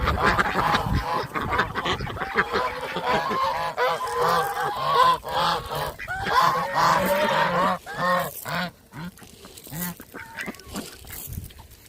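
A flock of geese and ducks honking and quacking loudly at a farm feeding, with dense, overlapping calls that rise and fall in bursts and then thin out toward the end.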